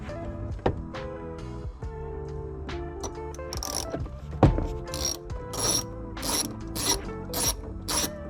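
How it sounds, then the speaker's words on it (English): Ratcheting clicks from a socket wrench as bolts come out of the dash of a 2018 Subaru WRX STI during a head unit install, a run of close, sharp mechanical clicks and rattles in bursts with no talk. "we have these 2 bolts right here that we have to take out."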